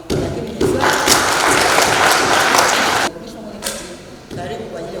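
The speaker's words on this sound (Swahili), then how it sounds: "ni swala la kujipigia makofi" Audience at a Gairo district event applauding the handover of ICT equipment for schools, a burst of clapping for a few seconds that drops away and then briefly returns.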